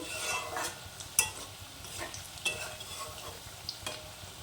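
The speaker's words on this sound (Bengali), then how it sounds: "এক পাশ ভাজা হয়ে গেলে এভাবে ঠিক উল্টে পাল্টে সুন্দর করে ভেজে নেব" Ripe banana fritters frying in hot oil in a village kitchen, with a steady soft sizzle broken by a few sharp clinks and scrapes as pieces are flipped; no voices.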